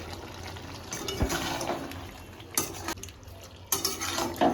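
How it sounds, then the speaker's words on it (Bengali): Ginger paste and radhuni being stirred into sukto in a pot, with irregular utensil clinks and scrapes against the pan over a low background hiss, close and fairly quiet, with no talking. "এবার আমরা বেটে রাখা আদা আর রাঁধুনিটাকে দিয়ে দিচ্ছি, দিয়ে আমরা ভালো করে নেড়ে নেব"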